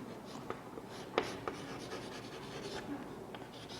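Pen writing on paper, a steady faint scratching rub with a few sharper strokes, close and quiet over light room noise.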